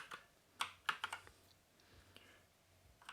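Key presses on a Havit HV-KB389L RGB backlit mechanical gaming keyboard with brown switches: a quick cluster of crisp clicks, then a few spaced, softer taps, close and clear with no talking.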